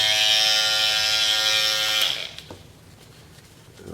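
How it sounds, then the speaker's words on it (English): An Andis Super Liner hair clipper buzzes loud and close with a bright, steady electric drone for about two seconds, then cuts off, leaving faint handling clicks and room noise. "And it's a very powerful clipper."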